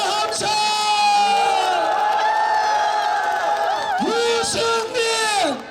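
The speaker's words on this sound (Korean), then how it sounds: "여러분 크게 박수와 함성!" A dense street crowd at a Daegu presidential campaign rally roars with sustained cheering and chanting, loud and close, with voices shouting over the din throughout.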